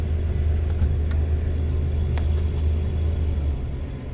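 Engine of a 1987 Dodge Diplomat car idling, a steady low rumble close by with a few faint clicks and no voices, fading slightly at the end.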